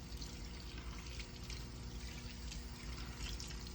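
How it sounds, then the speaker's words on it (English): Running faucet water pours steadily over hands being rinsed in a sink during handwashing, a continuous even rush with no pauses and no talking. "then I'm going to rinse with the water"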